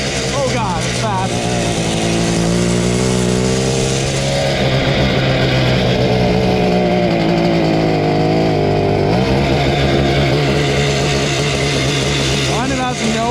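A small engine idles high with a steady, loud drone and a buzzy tone that wavers slightly, with a brief rev near the end.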